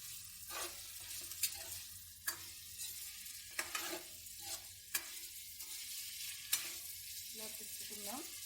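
Boiled egg pieces are stir-fried in a tempering for egg fried rice, a soft frying hiss punctuated by regular sharp spatula scrapes against the pan, several distinct strokes spaced about a second apart.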